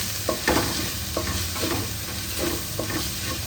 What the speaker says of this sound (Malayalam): അതിനൊരു തുണി വെച്ച് പിടിക്കാതെയാണ് ഞാൻ ഇരുന്ന് വതക്കണത്.